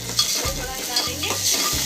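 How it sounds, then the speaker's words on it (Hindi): Ginger-garlic paste and vegetables fry and are stirred in a pan, a close, constant sizzle broken by repeated scraping stirs, with no talking. "थोड़ा हिला देंगे।"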